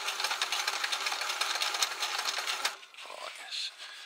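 A sewing machine stitches the bottom of a shelter pouch, a close, steady rapid whirring that runs for about two and a half seconds before stopping, leaving quieter handling sounds.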